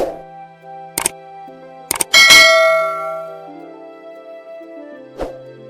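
A bright notification bell effect chimes with several sharp metallic clangs and dings, their ringing tones sustaining and fading over a few seconds, with one more light strike near the end and no talk.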